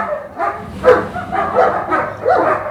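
German shepherd dog Kimbo gives a short run of about four or five close, loud barks and yips in quick succession.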